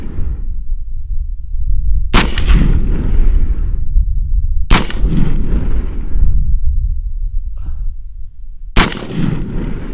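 Three loud, sharp M&P-15 Sport rifle gunshots ring out at an outdoor range, spaced a few seconds apart, each with a booming report and a rolling echo that trails off between shots.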